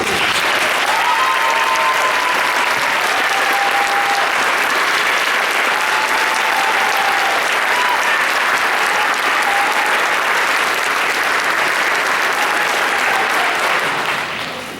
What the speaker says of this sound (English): why don't you stand up so they can clap for you